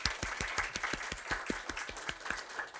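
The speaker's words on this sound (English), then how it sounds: "So first let us clap for the management" An audience claps for the management at a corporate wellness day event, a crisp, fairly even run of hand claps from a smallish group, moderately loud and continuous, with no speech on top.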